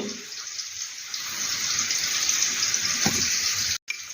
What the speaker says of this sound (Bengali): দিলাম ধনে আর কাশ্মীরি লঙ্কা। এতে সামান্য জল দিয়ে